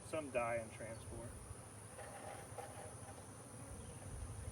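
Honey bees of the Southern Italian strain buzz in a dense, steady drone as a package is emptied into a beehive, with a voice speaking over the hum near the start.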